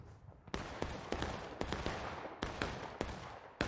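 Musket volleys crack out repeatedly in the online Civil War battle game War of Rights, sharp loud shots landing every half second or so amid dense battlefield noise.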